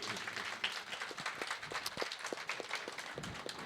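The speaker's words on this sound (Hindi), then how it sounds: "ये नाटक कैसा लगा आपकी तालियां हमें बताएंगी" Scattered applause from a small theatre audience after a play, fairly faint and uneven, with individual claps standing out through a thin wash of clapping for a few seconds.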